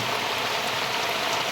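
Steady rain falls on a farm, a dense, even hiss with no breaks and no voices over it.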